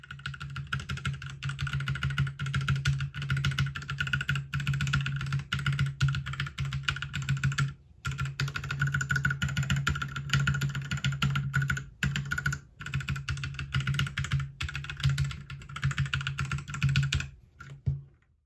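Fast, continuous typing on a modded mechanical keyboard with foam added inside, dense close clacks in a steady stream with brief pauses and a spacebar thump now and then.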